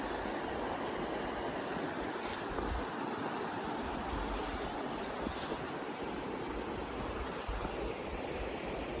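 Water lapping gently at a lake shore outdoors, a soft continuous wash with faint breezy rustle, steady and fairly quiet throughout.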